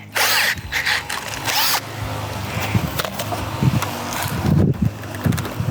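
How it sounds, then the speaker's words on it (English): A power drill fitted with a garden auger whirs in short bursts, grinding and chugging as it bores into soil, with pauses and clattering in between. "All right, my drill with my garden auger."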